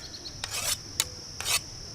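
Rasping strokes of a file sharpening the blade of an antique hand tool, three short scrapes spaced about half a second apart, close and fairly quiet with no talk.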